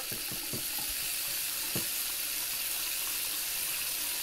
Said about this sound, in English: Shower. Shower. Well, that's still water.